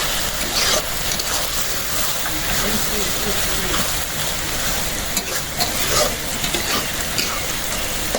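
Fish frying in mustard oil for a Bengali fish jhuri with pipul greens makes a loud, dense crackling sizzle with stirring, close up, with a voice talking over it.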